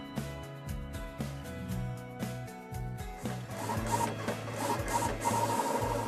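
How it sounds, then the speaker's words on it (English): GX24 desktop vinyl cutter cutting a graphic: stepping motor whirs and short mechanical bursts in an irregular rhythm, close and fairly quiet, building to denser busy movement toward the end, with no voices. "The GX24 will cut the graphic just as you designed it."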